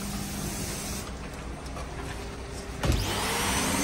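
A vacuum cleaner runs steadily while cleaning the interior of a Perodua Myvi, a continuous whirring hum that swells slightly louder near the end, with no talk.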